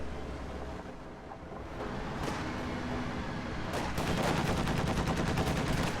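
MG42 machine gun and other gunfire in a World War II strategy game battle, bursts of shots and explosions building into dense, loud combat noise.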